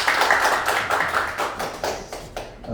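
Audience applause at a concert in Sinchon, a burst of clapping from a modest crowd that is fairly close and loud, then tapers off toward the end.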